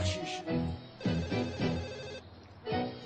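A telephone rings in a series of short, repeated electronic bursts, close and fairly clear, pausing briefly between rings.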